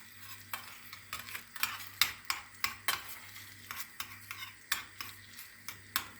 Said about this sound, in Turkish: Salçamızı güzelce kavuralım.